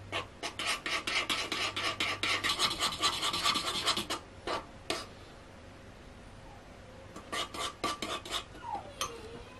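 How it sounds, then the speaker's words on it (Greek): Spoon scraping and rubbing around a bowl of chocolate melting in a bain-marie, a quick rhythmic rasp for about four seconds, then scattered strokes and a pause before a short burst of stirring resumes, close and fairly quiet. "ανακατεύουμε καλά, θέλουμε να λιώσει η σοκολάτα"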